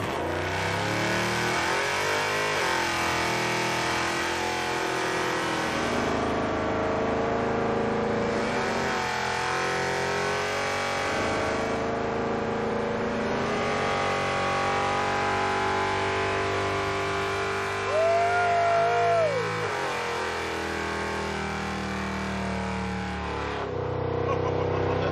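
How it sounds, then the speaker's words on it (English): A Chevy S10 muscle truck does a burnout, its engine roaring loud and close in sustained revs with surging pitch changes and brief dips, no talk over it. "I feel obligated to do a burnout in the muscle truck."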